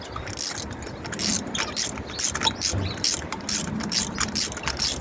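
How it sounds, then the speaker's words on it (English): A spark plug spanner ratchets a spark plug loose on a Freelander 1 K16 engine, giving rapid, close metallic clicking in repeated bursts with no talking. "Swap back to the spark plug spanner again. Another complete loose one."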